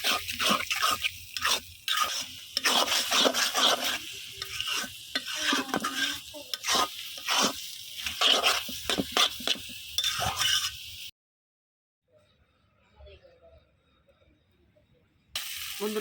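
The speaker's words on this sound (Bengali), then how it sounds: "ডিমগুলা দিয়ে একদম অনবরত খালি লাড়ান করে রাখতে হবে।" Fish eggs fry in a pan for a Bengali karfu fish roe dish, stirred without pause, giving steady close scraping and sizzling before a sudden silence near the end.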